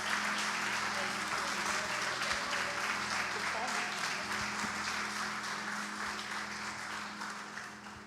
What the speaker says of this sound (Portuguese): Eu queria que você aplaudisse e glorificasse ao nome do Senhor.